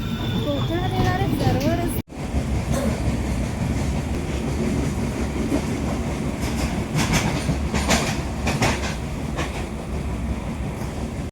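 A train rumbles steadily along the rails with rhythmic clatter, loud and close, after a brief burst of chatter at the start.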